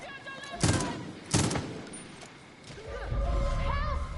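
Two sharp gunshot blasts ring out close and loud in a stealth video game, about a second apart, followed by a lower rumble of game ambience and a faint musical tone.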